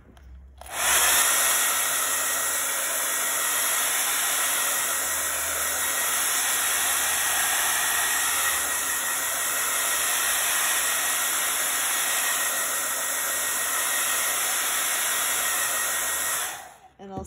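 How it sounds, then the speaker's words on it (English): A hair dryer blows steadily for about sixteen seconds to dry painted flowers on a sunflower barn-style craft piece, a loud, close, constant whoosh with a high whine that switches on and off sharply. "I'm going to just blow this dry."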